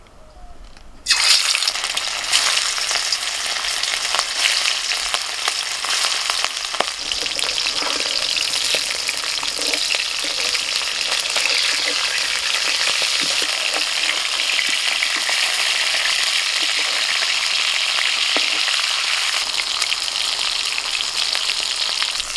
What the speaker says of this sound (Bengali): কড়াই সর্ষের তেল দিয়ে দিচ্ছি, মাছ দিয়ে দিচ্ছি।